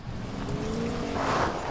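A car in Fortnite drives with a continuous engine drone and tire rumble that swells slightly toward the end, close and fairly loud, without speech.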